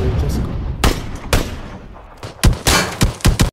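Gunfire rings out in PUBG, with close sharp shots in uneven bursts and single cracks over a few seconds and a cluster of rapid reports at the end, loud and up front.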